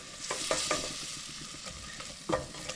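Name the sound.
stirring onion soup base with stock in pan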